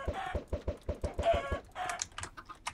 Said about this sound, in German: War überall Hühner, ey.